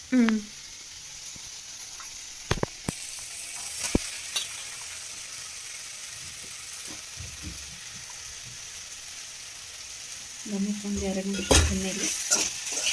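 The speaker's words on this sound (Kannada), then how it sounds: "ಈಗ ಬದನೆಕಾಯಿ ಹಾಕೋಣ ಫಸ್ಟ್." Eggplant pieces frying in hot oil give a steady, soft sizzle with a few sharp clanks of utensils early on, then louder bubbling and spattering near the end as more goes into the pan.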